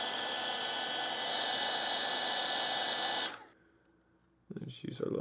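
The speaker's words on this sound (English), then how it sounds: "This little heat gun, made by Milwaukee, gets stuff hot pretty quick." A small Milwaukee heat gun runs as a loud, steady, hissing blower for about three seconds while warming stickers, then switches off, leaving near silence before some handling noise.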